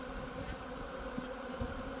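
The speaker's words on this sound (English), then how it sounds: "You got bees coming out and going in and coming out and going in." Honey bees buzz steadily around a hive entrance during swarm season, a dense continuous drone of many insects with a few louder passes close by.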